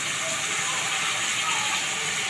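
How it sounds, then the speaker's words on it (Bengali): Chicken pieces sizzling in a hot pan for a chicken stew, a steady, close hiss of frying without pause. "একটু হালকা হাতে ভেজে নেব চিকেনটাকে"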